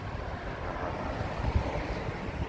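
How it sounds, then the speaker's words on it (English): Steady, gusty wind roars at night on a street in Dotonbori, Osaka, making a continuous rushing noise with slight surges and buffeting against the microphone; no one speaks. "it's not so much just that it's chilly, but it's windy"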